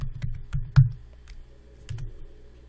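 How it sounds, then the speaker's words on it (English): Computer keyboard typing, a few sparse, separate keystrokes with dull low thumps, close and moderately loud, spaced irregularly over a quiet room. "Let me type in Jones."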